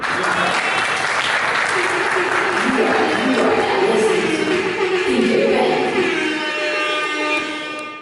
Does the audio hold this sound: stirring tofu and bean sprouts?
no